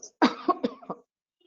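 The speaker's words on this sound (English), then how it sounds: "I mean, I'm coughing." A single harsh cough breaks into a short burst of rough, throaty hacks, close and fairly loud, then silence.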